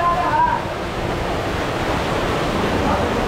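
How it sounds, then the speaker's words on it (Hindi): Water rushes inside Robbers Cave (Gucchupani) near Dehradun as a steady hiss of flowing water, moderately loud and constant for the whole few seconds. "पानी की आवाज़ आ रही"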